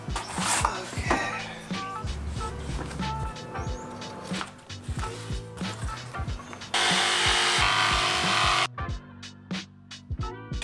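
A subfloor board being trimmed for a van build: scattered knocks and taps, then a few seconds of steady, loud rasping like sawing, followed by sharp, regular close-up impacts.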